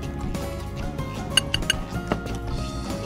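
Belgian waffle batter being stirred in a bowl makes bright clinks and taps of utensil against the bowl, scattered and irregular, a few sharper knocks standing out near the middle, with no talking.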